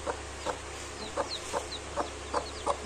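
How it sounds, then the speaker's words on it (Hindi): An Aseel hen clucks to call her chicks, about seven short, evenly spaced clucks sounding at moderate distance with no talk. "मुर्गी आ गई है बाहर, चूज़ों को भी बाहर बुला रही है।"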